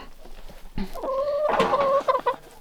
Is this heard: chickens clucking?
yes